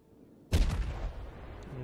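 A Yamato battleship's main guns fire a salvo in World of Warships, a sudden heavy boom after a quiet moment, followed by a rolling, fading rumble.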